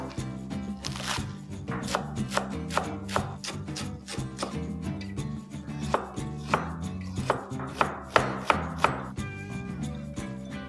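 Spring greens being chopped on a cutting board for dosa: a steady run of crisp knife strikes, close and fairly loud, with a rhythmic thud-and-snap pattern and no talking.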